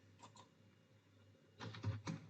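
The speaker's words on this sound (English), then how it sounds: "I will type here" Computer keyboard keys click in two quick bursts, a couple of light taps early on, then a denser cluster of close, crisp keystrokes near the end, with a low hum underneath.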